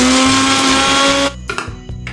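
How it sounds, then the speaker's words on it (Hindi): Kitchen mixer grinding musk melon juice with sugar whirs loudly and steadily for just over a second, then cuts off, leaving a few faint clatters and rattles up close. "इसे और एक बार मिक्सी में ग्राइंड करेंगे।"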